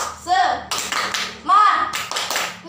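Children in a third-grade class clap in quick rhythmic bursts alongside chanting voices, close and lively.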